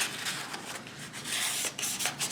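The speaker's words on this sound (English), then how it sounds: "This is 600 grade sandpaper," Wet 600 grade sandpaper rubs on a Kubota L2550 tractor front axle wheel case, a close, continuous gritty scraping with quick back-and-forth strokes.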